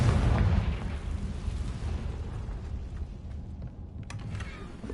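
A Confringo fire spell bursts in the Hogwarts Legacy game, a loud booming explosion with a roaring rumble that fades and settles over five seconds, with a small crackle near the end.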